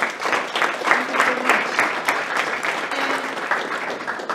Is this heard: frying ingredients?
no